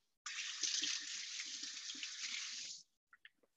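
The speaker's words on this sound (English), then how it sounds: "let me just give my hands a rinse" Water runs steadily from a kitchen tap as hands are rinsed under it, a continuous close hiss lasting a few seconds, then cutting off and followed by a few small drips and splashes.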